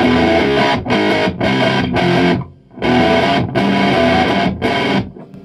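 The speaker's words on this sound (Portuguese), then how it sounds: "Um é esse Fuzz da Cachalote, que eu indico bastante." Electric guitar played through a Cachalote fuzz pedal set for distortion, loud chopped chords in short bursts separated by abrupt silences, with a dip into quieter tone midway.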